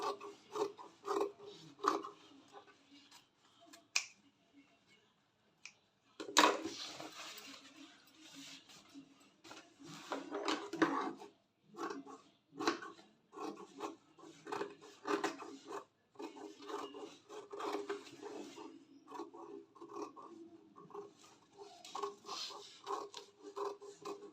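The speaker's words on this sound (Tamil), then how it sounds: "இப்போ எக்ஸஸாக இருக்கிற கிளாத் எல்லாத்தையுமே கட் பண்ணிக்கிறேன்" Scissors trim excess cloth after a lining has been stitched along the side while sewing a recycled-fabric piece, giving repeated close rasping snips and rustles that come in irregular bursts with brief pauses and no talk.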